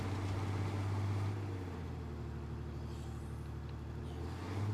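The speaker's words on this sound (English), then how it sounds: "You can hear me over the very loud engine of this car, right?" Loud, steady engine drone of a car being driven in State of Decay 2, a low sustained rumble with a brief pitch shift partway through and no talk over it.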